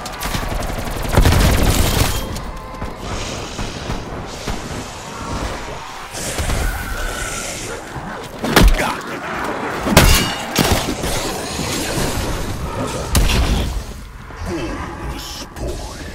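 Call of Duty: Black Ops Cold War match with a thrown grenade exploding amid heavy gunfire: dense bursts of automatic shots and several loud booming blasts, continuous and close, with faint game voices underneath.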